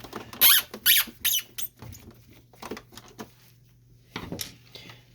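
Three sharp, high squeaks burst out close together as the plastic top cover of an Epson XP-series inkjet printer is pried open, trailed by softer clicks and creaks over a steady low hum.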